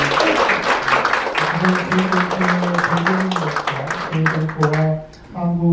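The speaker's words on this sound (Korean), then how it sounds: "더 큰 박수 부탁드리겠습니다" An audience at a gathering of overseas Korean journalists applauds, with continuous clapping running throughout while a voice talks over it.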